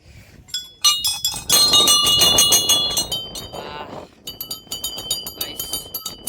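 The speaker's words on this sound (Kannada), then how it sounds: "ಬನ್ನಿ ಬೆಲ್ ಹೊಡ್ಬಿಡೋಣ" Bright metallic clanging of a bell at the Narasimha Swamy temple in Ahobilam, rung repeatedly in quick bursts, loud and close, pausing briefly before another run of strikes.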